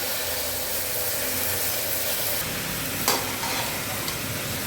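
Soaked rice and lentils are stirred in a pan, a continuous close hissing, sizzling scrape with a brief sharper knock partway through, no talking.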